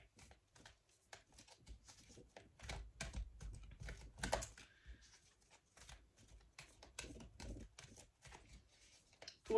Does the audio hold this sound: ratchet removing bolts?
no